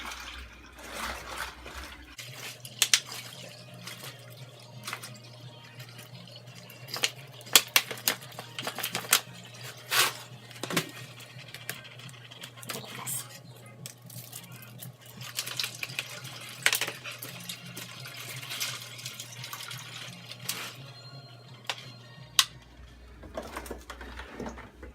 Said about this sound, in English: So just topping it off with the rest of the water till it hits 5 gallons.